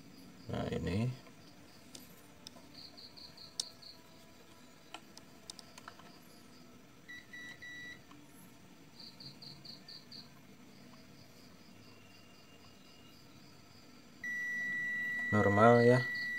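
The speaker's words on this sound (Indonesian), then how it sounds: "kita cek buzzer aja." A continuity tester buzzer on a transformer's primer winding gives short, steady high beeps in several brief bursts, with a longer sustained tone near the end, amid quiet handling clatter and a few louder knocks.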